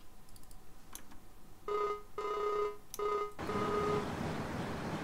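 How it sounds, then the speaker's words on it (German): A telephone rings during a call in a German farming simulator: three short bursts of a bright electronic ring tone with brief gaps, fairly loud and alone, the last cut into a burst of hiss. "Jetzt mache ich einen kurzen Telefonat"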